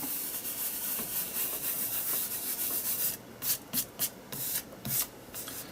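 Hands rubbing and smoothing paper down onto an art journal page: a steady dry brushing hiss that breaks into several short, separate swipes toward the end, close up with no talking.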